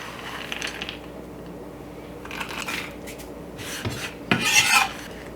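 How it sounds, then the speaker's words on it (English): Pecans stirred into a caramel pecan pie filling with a spatula, giving soft rubbing and scraping strokes against a bowl, close and quiet, with a louder scrape near the end. "I'll switch to my spatula to stir these in."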